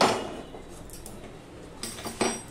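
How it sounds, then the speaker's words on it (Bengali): A metal kadai set down on a kitchen stove while cooking bottle gourd dal, giving a sharp clank at the start and a few lighter metallic knocks and clinks after it. "এবার ডালটা নামিয়ে রেখে আমি একটা কড়াই বসিয়ে দিচ্ছি।"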